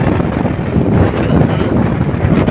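Heavy wind buffeting a microphone while riding a motorbike, a loud, steady roaring rush that fills the whole short stretch with no other sounds.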